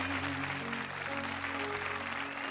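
Steady applause from a crowd for a singer, dense and sustained throughout, with a faint musical tone lingering underneath.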